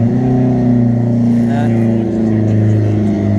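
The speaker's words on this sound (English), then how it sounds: "That nice Miata's leaving" A Mazda Miata engine rumbles and revs as the car pulls away, a low steady drone with a brief rise in pitch, fairly close, with a voice talking over it.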